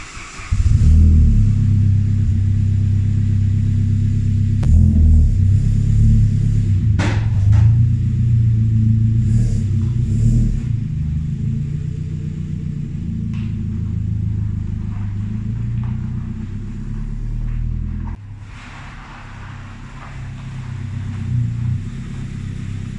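A classic Saab 900 Turbo out for a short drive after suspension work, its engine a steady low rumble from inside with mild rises in revs and a drop in load near the end, no voices.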